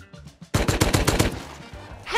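A nail gun fires in the video game Rust, a rapid burst of about ten sharp, loud shots in quick succession, preceded by a few fainter clicks.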